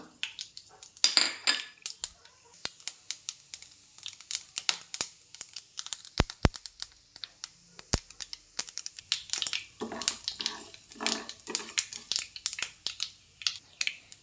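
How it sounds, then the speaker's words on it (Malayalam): Mustard seeds and urad dal pop and splutter in hot oil, a scattered series of sharp crackles and small bursts, with clinking of utensils in between. "കടുക് പൊട്ടി വന്നിട്ടുണ്ട്."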